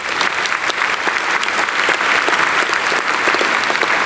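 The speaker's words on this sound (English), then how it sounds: "Please give them another round of applause." A crowd at a medical school white coat ceremony applauds steadily, dense clapping that stays loud and even throughout.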